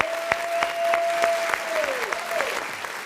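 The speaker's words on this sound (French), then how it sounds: "je vous demande déjà de l'applaudir" An audience applauds a gospel singer being introduced on a midday entertainment show, producing a moderate, fairly steady wash of clapping with a few sharper claps, while a faint sustained tone hums underneath.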